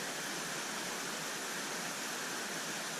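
Waterfall in Waterfall Canyon near Ogden, Utah, streaming down from the top of cliffs: a steady, broadband roar of falling water, heard from a distance and constant throughout with no voices.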